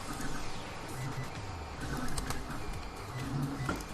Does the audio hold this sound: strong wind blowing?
no